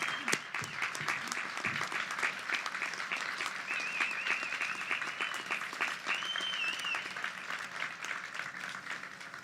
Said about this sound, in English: let us give a round of applause to show our appreciation to the family and friends who are here